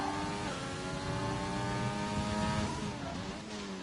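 Formula 1 car engine at Bahrain in a racing video game, a loud, continuous high-revving scream with pitch shifts from throttle and gear changes, heard alone without talk.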